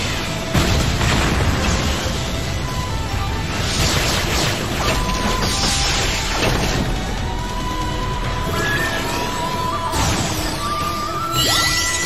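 Anime explosion: booming blasts and crashing rumbles roll continuously through the clip, dense and loud, with whooshing bursts layered over a chaotic, explosive din.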